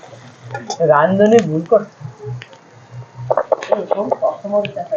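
Chopped onion and ginger fry in a pan and are stirred, the faint sizzle and scraping running steadily beneath a voice that talks through most of it.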